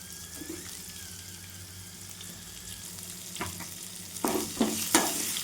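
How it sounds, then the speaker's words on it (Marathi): Onions fried in a pan with roasted chana dal and red chillies give a low steady sizzle, with a few louder stirring scrapes and clatters toward the end. "आता आपण याच्यामध्ये कांदे घालूत कांदे पण छान भाजून घेऊ"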